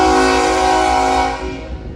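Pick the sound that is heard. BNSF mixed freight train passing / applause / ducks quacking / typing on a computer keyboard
BNSF mixed freight train passing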